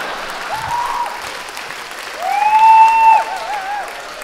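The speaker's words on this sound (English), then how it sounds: "Chennai people are clapping for this" Applause from a stand-up comedy audience in Chennai: a sustained patter of clapping hands that swells louder midway and then eases, with a few thin tonal whistles or cries riding on top.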